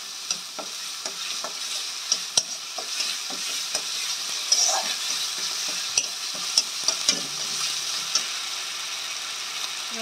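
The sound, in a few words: frying and stirring ginger garlic paste in a pan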